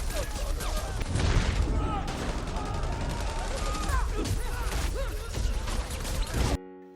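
Gunfire in a tense scene from The Flash film at a secret facility, with steady bursts of shots and crashing impacts layered under a continuous orchestral score, all loud and dense before cutting out at the end.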